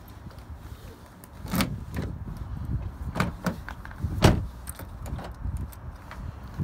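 Power door locks on a 2010 Mazda 3 sedan, a lower-trim car in a junkyard, clunk several times in sharp, close mechanical thuds spread over a few seconds with quiet pauses between, no talking.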